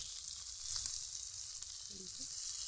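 Ground cumin paste hits hot oil for a vegetarian cabbage curry, producing a soft, continuous hiss of frying with a few faint clinks of a utensil.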